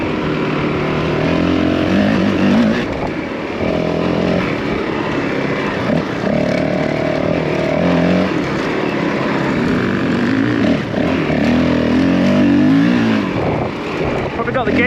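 Honda CRF450L enduro motorcycle ridden around a quarry, its engine droning loud and continuous with rising and falling revs, while someone talks over it.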